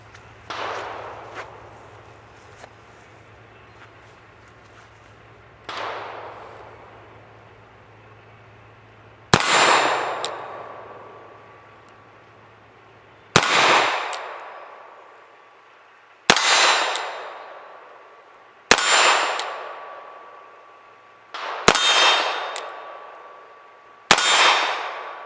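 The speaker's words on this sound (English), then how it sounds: "we've got my Webley Mark VI loaded with my .45 ACP revolver loads, all ready to go" Seven sharp, loud gunshots from a Webley Mk VI revolver firing .45 ACP rounds, each with a ringing metallic tail. They come at irregular intervals a few seconds apart, the later ones louder and more evenly spaced.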